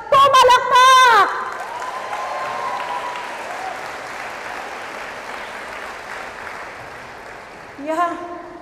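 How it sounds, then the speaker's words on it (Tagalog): A church congregation at a Sunday service claps together in a sustained round of applause, loud at first and then steady, with a voice shouting over the start and again near the end. "Pumalakpak!"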